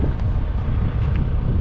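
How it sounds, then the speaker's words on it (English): Gusty wind roars steadily across the microphone outdoors at a truck stop beside a parked semi trailer, a constant low rumble with no speech. "Oh boy, and it's windy."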